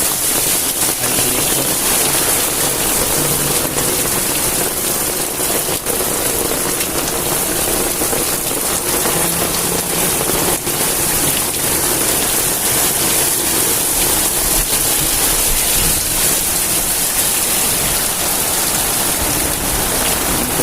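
Steady heavy nighttime rain in Ratnagiri pours down continuously, with drops splattering close against the camera and water rushing through a nearby drain, a dense even hiss throughout with no voices.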